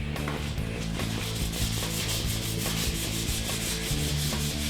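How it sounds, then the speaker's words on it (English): Steady abrasive rubbing of sandpaper on a repaired deer antler tine, loud and close, with a continuous scratchy texture and regular back-and-forth strokes throughout. "the more you sand it, the softer it gets"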